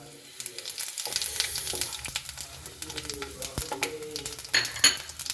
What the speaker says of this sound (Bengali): মশলাগুলো সব ভাজা হয়ে গেছে